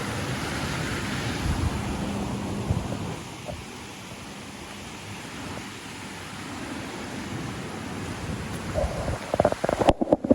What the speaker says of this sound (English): The river is pumping!